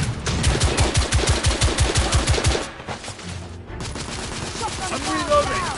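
Dense rapid gunfire from The Order: 1886 rattles in fast, loud bursts, then thins to scattered shots with shouted voices from the game over it.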